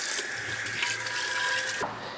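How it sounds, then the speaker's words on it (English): Water from a tap runs gently as resin is rinsed off the threads of a PureWash Alto 10 unit, a steady close splashing stream that stops abruptly near the end, with no talk. "So we're just going to rinse it very carefully."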